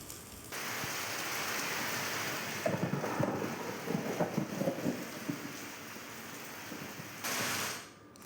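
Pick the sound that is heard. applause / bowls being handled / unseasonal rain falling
unseasonal rain falling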